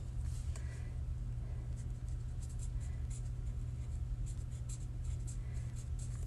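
Marker nib tip coloring on paper during a live craft session, soft scratchy strokes in short repeated bursts, quiet and close over a low steady background hum.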